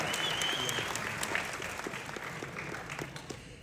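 Brief, fairly quiet audience clapping at a haunted-attraction panel convention, a scattered round of applause fading over a few seconds.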